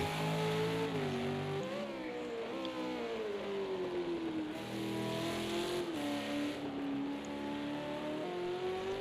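A V8 Supercar racing engine roars steadily in a PS4 racing game, holding a loud, continuous note that rises and falls through gear changes and corners, close and unbroken, with no talking.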